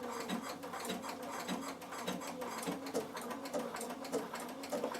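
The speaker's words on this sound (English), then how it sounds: "And I'm going to start stitching here. And what it's going to do is a triple blanket stitch." A Bernina sewing machine runs a triple blanket stitch through wool appliqué, its steady rapid mechanical whirr and needle clatter continuing without pause, close and fairly loud, with no talking.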